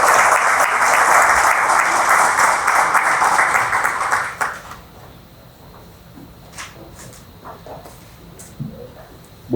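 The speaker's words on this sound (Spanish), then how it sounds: "Por favor, muchos aplausos." Loud sustained applause from an audience at a law lecture for about four seconds, then it fades out to quiet room sounds with a few scattered noises.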